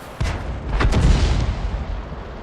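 Artillery gun fire in a World War II tank video game, a single heavy boom with a rumbling blast that decays over about two seconds, loud and close.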